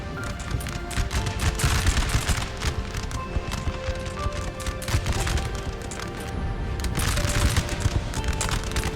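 Musket volleys crackle in a Napoleonic-era battle in Napoleon Total War, making a dense, continuous rattle of scattered shots that holds steady for the whole stretch at a moderate distance.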